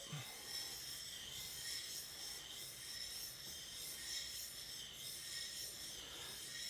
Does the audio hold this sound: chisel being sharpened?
yes